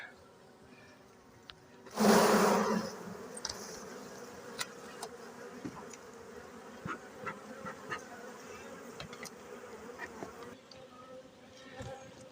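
Honey bees buzz in a steady hum around an open hive during an inspection, with one loud close pass near the start and fainter buzzing continuing throughout.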